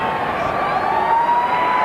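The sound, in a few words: siren sounding at a rugby league match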